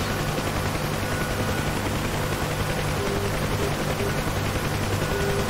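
A Huey helicopter in a VR flight simulator passes through effective transitional lift, giving a loud, steady, broadband rotor roar with a fast rhythmic chop throughout, heard without talk.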